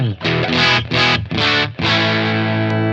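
Heavily distorted electric guitar through a Mosky D250X distortion pedal, a DOD 250 clone, strums loud chords in short bursts with brief gaps, then lets a final chord ring out and sustain.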